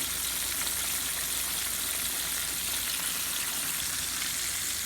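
Pork chops fry in a hot pan, giving off a dense, loud, unbroken sizzle that stays constant from start to finish, close up, with no speech.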